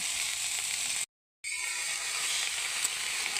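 Lau shak greens tipped into a hot pan of fried spices, giving a steady bright sizzle that cuts out briefly and then resumes as an even, moderately loud hiss.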